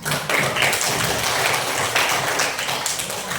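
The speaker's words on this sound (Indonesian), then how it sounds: "Terima kasih, tepuk tangan buat semuanya." A classroom of students applauds everyone together, a dense, busy patter of many hands clapping at once that holds steady throughout.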